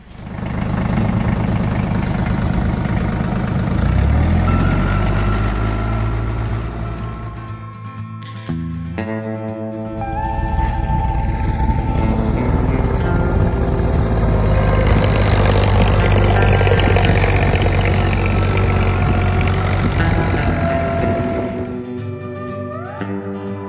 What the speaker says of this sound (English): The tractor's barely getting through it.